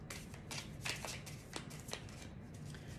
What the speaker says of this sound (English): I've been shuffling this deck forever